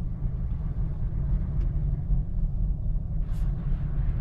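A car drives along, its steady low engine and road rumble filling the cabin evenly from start to finish, with no talking.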